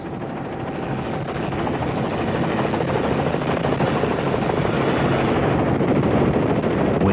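A helicopter's steady rotor thrum and engine whine hold constant and fairly loud throughout, with no voices, as it flies over Springbok fleeing across open land.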